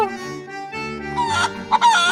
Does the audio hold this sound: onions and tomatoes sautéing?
no